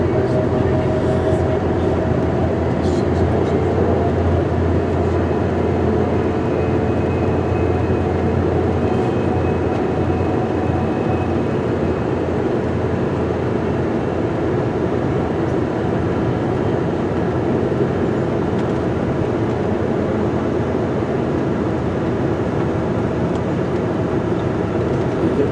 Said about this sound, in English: There's our remote control locomotive.